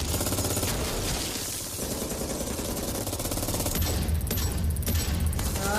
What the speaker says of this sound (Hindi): एक साथ इतनी सारी गोलियां चलती है।